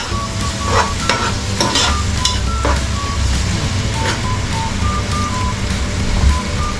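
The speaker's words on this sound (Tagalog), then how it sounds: "Ginisa na natin yung sibuyas, bawang, kamatis, saka luya." Onion, garlic, tomato and ginger sautéing in a pan, a steady sizzle with stirring scrapes and clinks throughout, while an intermittent reversing beep sounds from outside and traffic rumbles in the background.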